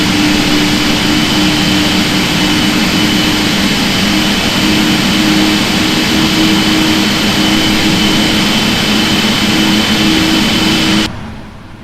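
A jet aircraft engine spools up in a steady, loud, sustained roar with a constant whine, continuing for about eleven seconds before cutting off abruptly near the end.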